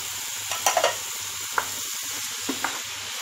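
Olives sizzle softly in a pan with greens, a continuous quiet frying hiss broken by a few sharp clicks and scrapes of stirring.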